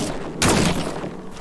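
A fire gun in the video game Scars Above lets out one loud, broad burst of discharge that rises abruptly and then tails off into a sustained roar, heard close and alone.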